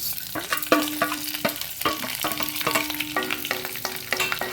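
Urad dal and chana dal fry in a pan over a low flame with a steady soft sizzle, while a spoon scrapes and stirs them in frequent clattering strokes.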